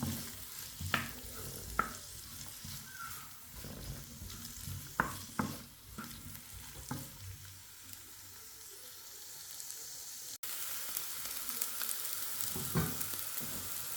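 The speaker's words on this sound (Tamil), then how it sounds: "வெங்காயம் நல்லா பொரிஞ்சு விடணும்." Onions frying in a pan for a Jaffna-style dish, a steady close sizzle with scattered sharp clicks and scrapes of stirring in the first half, then a louder, denser hiss toward the end.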